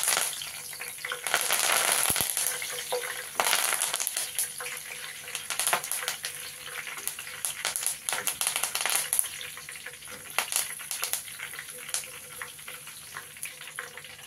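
Curry leaves fry in hot oil while soya 65 is being made, a loud, continuous crackling sizzle with uneven bursts of spattering throughout.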